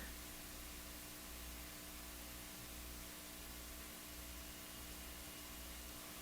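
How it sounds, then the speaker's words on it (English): Faint, steady static hiss from a National HRO-60 communications receiver with a low hum underneath, unchanging throughout and no voices. "Mr. Radio should be making a hiss"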